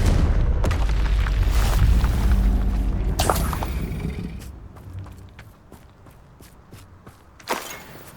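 A Confringo fire-blast spell goes off in the video game Hogwarts Legacy: a loud burst and rumbling boom that fills the first seconds, then several sharp cracks and a final pop over fading noise.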